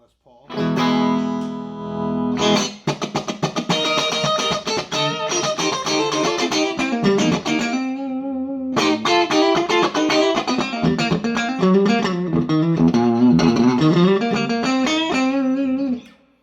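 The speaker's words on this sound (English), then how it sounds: "I'll show you some funk tones on the Les Paul." A Les Paul electric guitar plays funky chords and riffs through a Fender Blues Junior amp with the Billm mod, loud and bright, with a brief break midway before the playing resumes.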